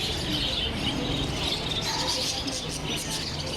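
Parakeets chirp throughout a busy pet shop, their bright high calls layered over constant crowd chatter and background bustle.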